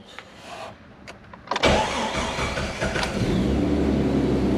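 A car engine with an old fuel pump in a new Gen Right tank cranks over after a few clicks and whirs, then catches and settles into a steady, rough running rumble.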